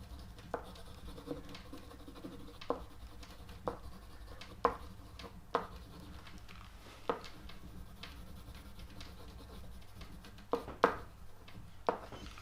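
Red crayon pressed down hard and rubbed across drawing paper, a soft dry scratching with periodic sharper ticks as strokes begin and end, faint and close, with no talking.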